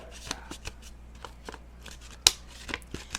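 Paper folded over in a hamburger fold while making a simple ring toss, a series of soft crinkles and taps with one sharper crisp crackle partway through, close and quiet.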